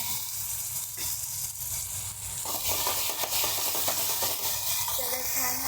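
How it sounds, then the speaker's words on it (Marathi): Ground tomato paste with chilli powder and turmeric fries in a pan, a steady close hiss and sizzle that thickens and crackles more busily partway through as it is stirred. "टोमॅटोचं वाटण छान परतलेलं आहे"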